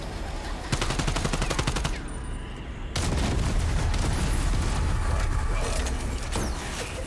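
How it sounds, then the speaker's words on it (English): Rapid automatic fire from a pack-a-punched pistol-ammo weapon on the Call of Duty Zombies map Forsaken, dense fast volleys that cut out briefly then resume as a long continuous loud stream with game noise behind. "This shoots pistol ammo. A great deal of pistol ammo."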